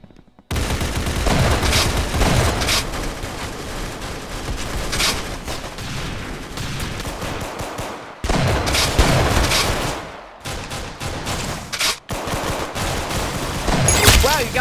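Gunfire from Roblox Arsenal played on mobile: rapid volleys and bursts of shots come in long, loud runs, broken by short silent gaps, with faint game sounds underneath.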